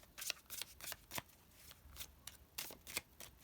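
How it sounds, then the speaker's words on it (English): Tarot cards being shuffled by hand in repeated soft riffling bursts, close and quiet, with brief pauses between the papery flurries and no talking. "Feel free to skip through my shuffling."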